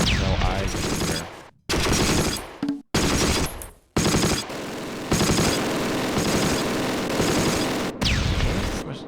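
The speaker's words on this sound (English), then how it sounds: "there's the machine gun fire way at the end of the street" Machine gun fire in the WW2 strategy game Close Combat, loud sustained bursts broken by abrupt gaps, dense and close with a voice faintly mixed in.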